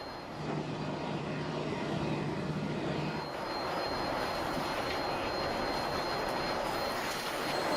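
Airplane in flight during a flight load survey test, a loud continuous broadband roar of engine and airflow filling the whole clip, with a low steady hum that drops away partway through.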